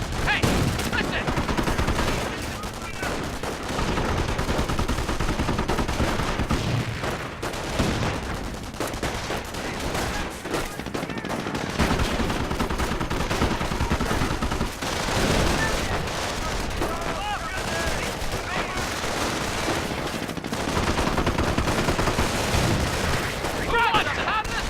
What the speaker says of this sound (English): Rifle squad taking fire!